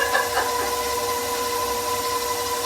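An electric mixer whirs steadily while mixing chocolate pudding cookie dough, a close, even motor hum with a brief faint voice at the start.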